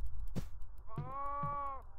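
A goat in the horror game Devour gives a clear, close bleat: one sharp thud, then a wavering, drawn-out cry lasting nearly a second over low background rumble.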